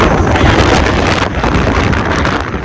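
Strong wind on the hilltop of Visapur Fort buffets the microphone with a loud, continuous rumbling roar throughout, no voices audible.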